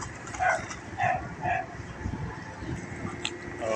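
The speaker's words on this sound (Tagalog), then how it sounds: "May aso." Several sharp dog barks in a row come early, then fainter yips, amid the rumble and chatter of provincial buses loading onto a ferry.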